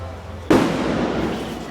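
One Diwali country firecracker goes off with a sudden loud bang about half a second in, followed by a crackling, hissing wash that lingers to the end.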